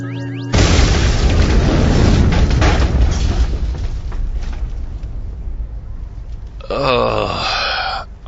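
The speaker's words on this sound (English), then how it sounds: "Commencing big ass explosion." A huge explosion in a sci-fi audio drama follows a computer countdown: a sudden, very loud boom that rolls into a long, decaying rumble, ending in a warbling, wavering tone.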